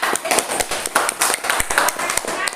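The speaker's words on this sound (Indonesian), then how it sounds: "Berikan tepuk tangan yang paling kencang." Schoolchildren in a classroom clap loudly in a busy, uneven burst, with quick claps and taps crowding together over a short stretch.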